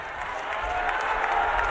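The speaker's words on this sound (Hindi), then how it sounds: "एक बार हाथ उठाकर ताली सब लोग बजाइए" Applause from a large crowd at a political rally in West Bengal, steady dense clapping filling the space with a general crowd murmur, nearby and fairly loud.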